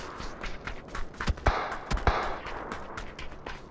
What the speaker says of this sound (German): Und wo schießt denn der?